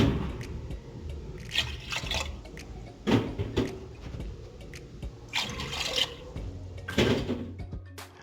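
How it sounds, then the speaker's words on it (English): Mineral water is poured into a pot of washed lentils in several splashing, gurgling bursts, with a few soft clinks of the pot between pours. "Take 5 cups of mineral water. Add into the pot of washed lentils."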